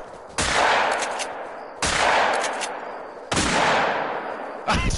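Hunting rifles fire in Hunter: Call of the Wild, four loud, sharp shots spaced over a second apart, each cracking hard and then rolling off in a long fading echo, with no talk between them.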